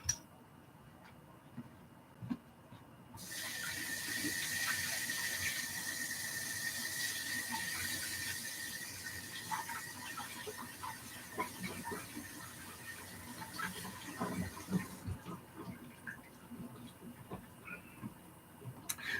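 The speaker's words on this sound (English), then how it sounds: "And then I want to just rinse this off." Food being rinsed under a running kitchen tap: a steady rush of water starts, runs for about twelve seconds with light splashing and handling clatter, then stops, fairly close in a quiet kitchen.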